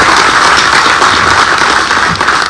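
Loud, dense applause from a crowd at a charity foundation opening event, a continuous roar of clapping that fills the whole moment before easing slightly near the end.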